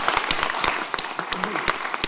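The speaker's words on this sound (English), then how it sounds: "one more round of applause" A city council chamber audience claps in a steady round of applause, dense overlapping hand claps throughout with a voice faintly underneath.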